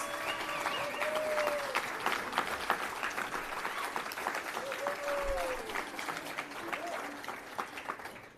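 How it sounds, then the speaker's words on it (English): Audience applause fills a Democratic Party breakfast room, steady clapping held at moderate volume throughout, with voices and a few whoops mixed in. "would you please stand and just give these women a round of applause?"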